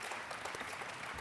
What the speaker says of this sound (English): Ladies and gentlemen, big round of applause for John.